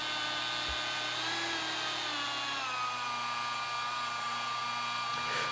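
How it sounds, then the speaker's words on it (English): A rotary polisher runs on its third speed setting over soft black car paint during a paint enhancement. It gives off a steady, high whine with a smooth motor drone, constant and close for the whole stretch. "Third speed setting on the rotary polisher here"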